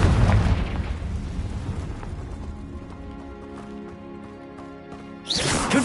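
A Confringo blasting spell from Hogwarts Legacy bursts loudly at the start, trailing into a ringing magical decay with tonal shimmer, before a second sharp burst near the end.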